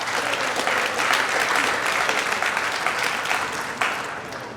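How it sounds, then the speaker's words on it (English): Audience applause fills the hall at the opening ceremony of the 2024 World's Fair of Money coin convention in Chicago: dense, sustained clapping from a large crowd that stays loud throughout, then begins to taper off near the end. "let's give them all a round of applause"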